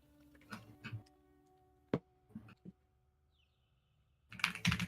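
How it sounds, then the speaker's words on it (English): Keystrokes on a computer keyboard at a futures trading desk, a few scattered clicks and short bursts with quiet gaps, ending in a louder flurry of rapid clacking close to the microphone. "You're typing, like you're like click, click, click, click."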